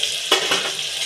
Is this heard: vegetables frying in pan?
yes